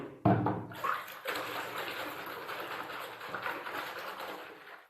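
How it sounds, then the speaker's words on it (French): Water running and sloshing in a basin as shampoo is poured in to wash a curly hair weave, a steady close rushing pour after a brief splash, with no talking. "soit verser du shampoing dans de l'eau, comme ceci"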